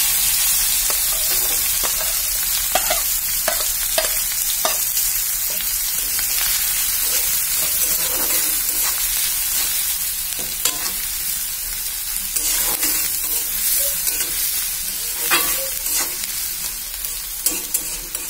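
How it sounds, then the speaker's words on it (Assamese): Chopped onions fry with eggs on a low gas flame, a loud, close, continuous sizzle punctuated by frequent sharp scrapes and taps of a spatula stirring in the pan, with no talking. "গেছৰ ফ্লেমটো লো কৰি দিম তাত দি দিম কুটি লোৱা পিঁয়াজখিনি"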